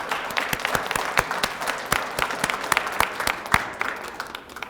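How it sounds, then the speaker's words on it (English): An audience applauds clubs and volunteers at a coin show opening ceremony in Atlanta, with a moderate, evenly paced patter of claps from a modest crowd that tapers off slightly at the end. "Let's give our clubs and all the volunteers a round of applause"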